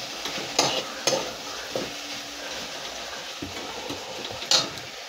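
Okra, green chillies and salt stir-fry in a pan with a soft continuous sizzle, and a spoon knocks and scrapes against the pan a few times, fairly quiet and close.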